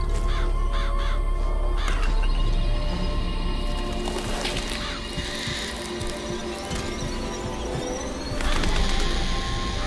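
Crows caw repeatedly in BioShock Infinite, summoned by the crow vigor, with harsh calls recurring in bursts over a dense, loud game soundscape.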